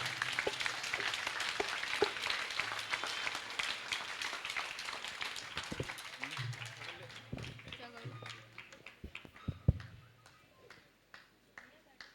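Jain temple gathering in Rohini, Delhi, where an audience claps with both hands raised, a dense sustained patter that thins and fades toward the end, with a voice and a few louder knocks under it.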